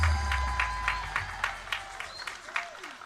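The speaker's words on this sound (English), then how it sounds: "Let's give him a round of applause." A crowd at an outdoor political public meeting in La Horquetta, Trinidad, claps for a senator, a steady spread of applause running under amplified talk and low rumble.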